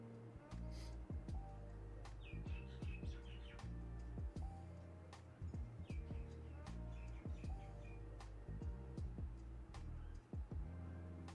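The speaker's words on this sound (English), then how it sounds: "I keep hearing birds. Yeah, there's birds outside." Birds chirp and tweet outdoors in short, bright bursts scattered through the clip, faint and somewhat distant beneath a steady low hum and occasional ticking clicks.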